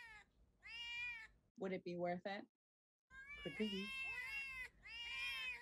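Performers in a synagogue Purim stage show imitate cats with several drawn-out, wavering high meows, heard close and loud around a brief stretch of speech.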